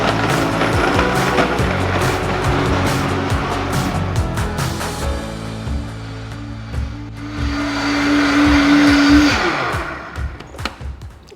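A Vitamix blender runs on its soup setting, heating and puréeing pumpkin soup by friction, giving a steady loud motor whir with a rattling, churning texture that rises in pitch toward the end and then cuts off.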